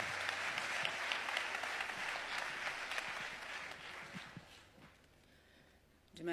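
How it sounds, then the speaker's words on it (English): Audience applause at a memorial service in Pretoria, South Africa, a steady round of clapping from a crowd that fades over about five seconds before a brief louder burst at the end. "a round of applause."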